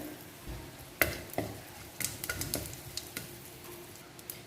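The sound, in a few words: tempering mustard seeds and lentils in oil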